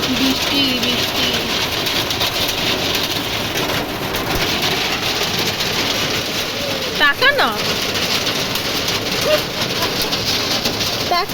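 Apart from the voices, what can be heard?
rain falling outdoors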